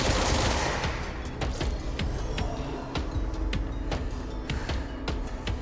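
Rapid gunfire from the action game Control, a steady barrage of sharp repeated shots over a constant low hum, fairly loud and sustained throughout with no talking.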